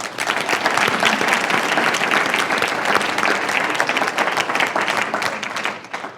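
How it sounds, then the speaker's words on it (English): Sustained applause from an audience at an evening political forum on the 2012 presidential primary, dense steady clapping throughout that tapers slightly near the end. "how about a round of applause for them?"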